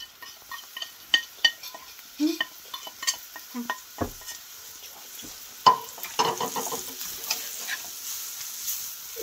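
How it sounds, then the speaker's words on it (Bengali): Turmeric, red chili powder, salt and coriander-cumin powder frying in a little oil with fried garlic, giving a soft sizzle under scattered stirring scrapes and utensil clinks, close and fairly quiet. "একটু তেলের মধ্যে ভেজে নেব"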